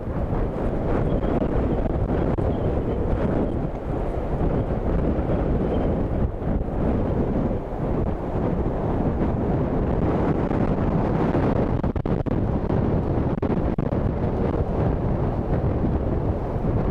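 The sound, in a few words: strong storm wind gusting at Dublin Airport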